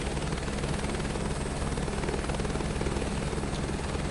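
Helicopter in Microsoft Flight Simulator 2024 flying with a steady, dense rotor and turbine drone, loud and continuous throughout with a low rhythmic beat and no talk.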